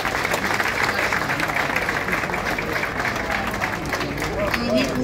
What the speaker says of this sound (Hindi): आपकी जोरदार तालियों के साथ इसको मैं एक